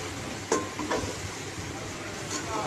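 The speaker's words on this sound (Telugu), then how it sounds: "2 నిమిషాలు బాగా కలబెట్టండి." Mushroom biryani masala of tomato, onion and turmeric is stirred in a pan, giving a soft steady sizzle with a few sharp scrapes and clinks of the spoon against the metal.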